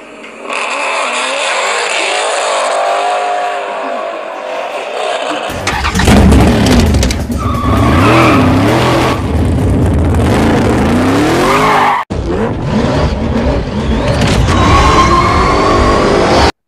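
Car engines from a Fast and Furious film scene, several loud revving, roaring passes with tire squeal and skidding, cut between different shots with abrupt changes in tone.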